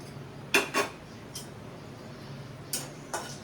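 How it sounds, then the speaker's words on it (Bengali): Whole spices, including torn bay leaf, dried red chilli, cardamom and cinnamon, being stirred in a hot pan for palak kofta curry: a few light metallic clinks and scrapes of a utensil against the pan, spaced irregularly and fairly faint. "নাড়াচাড়া করছি"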